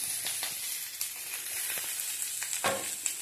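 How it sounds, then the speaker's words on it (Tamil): Cinnamon, cloves, curry leaves and dried chillies sautéing in hot oil in a pan, a soft steady crackle punctuated by quick scraping stirs. "பட்டை, லவங்கம், கருவேப்பிலை, காஞ்ச மிளகாயும் போட்டு வதக்கவும்."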